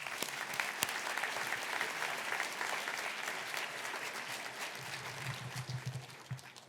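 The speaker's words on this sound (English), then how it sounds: "And please give her a round of applause." Sustained applause from a crowd at a graduation recognition ceremony, dense clapping that thins out and grows more scattered toward the end.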